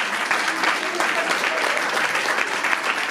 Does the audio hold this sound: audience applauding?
yes